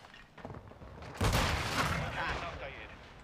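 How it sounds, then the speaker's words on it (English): In Call of Duty: Modern Warfare II, a mortar strike lands as one sudden heavy blast about a second in, followed by a rumbling tail that slowly fades. "Hostile mortar striking the area."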